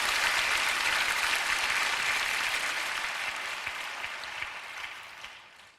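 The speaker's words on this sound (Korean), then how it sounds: "하나님께 박수 올려드리시죠." A congregation at a church prayer service applauds, a dense, steady wash of clapping that holds for several seconds and then gradually tapers off.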